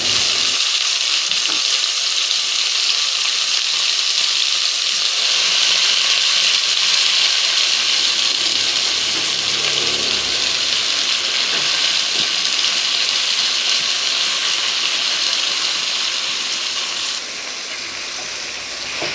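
Amaranth greens sauté with tomato, onion and green chilli in a clay pot, giving a loud, steady frying hiss that runs throughout and eases slightly near the end.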